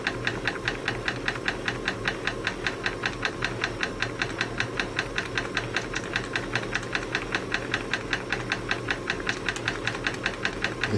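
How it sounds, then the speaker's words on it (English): A small live steam engine fed by a 3-litre copper-clad boiler chugs at a steady, quick beat, each exhaust puff sharp and regular over a constant hiss of escaping steam, close and without talk. "there we go, the engine is going."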